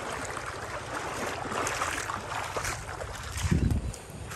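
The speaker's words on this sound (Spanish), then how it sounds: "Miren, este es el río Chin Chin. Está sucio. Porque llovió allá arriba en la montaña." A muddy mountain river, swollen and fast after rain upstream, rushes with a steady broad roar, close and continuous, with a heavier low surge near the end.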